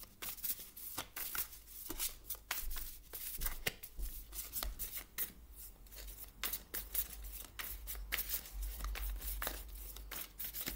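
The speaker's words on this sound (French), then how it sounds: "Je mélange votre jeu et je suis à vous dans quelques secondes." A deck of tarot cards is shuffled by hand up close, a continuous run of quick riffling, flapping and slapping bursts with no talking.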